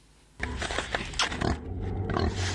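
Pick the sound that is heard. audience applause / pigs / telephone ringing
pigs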